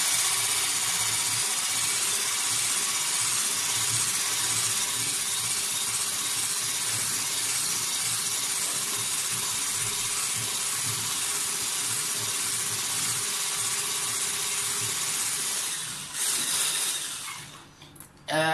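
An electric mixer whips cream for blueberry ice cream in a home kitchen, a steady loud whirring hiss held for many seconds before it shuts off near the end.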